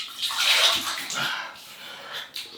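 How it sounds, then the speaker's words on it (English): Water splashing as a man wets his face before shaving with a Parker Solo Edge razor, a close, continuous sloshing and dripping that rises and fades, with a final small splash near the end. "so we'll just wet the face"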